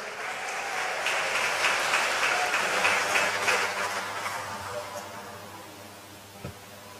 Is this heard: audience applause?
yes